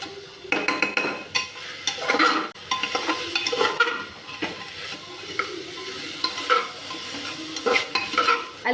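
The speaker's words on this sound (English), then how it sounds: "I'll cook this for some time till it is softer" Sweet corn and peas cook in a pan over the flame, giving a soft sizzle broken by repeated stirring scrapes and light clinks of a spoon against the pan, close by with no talk.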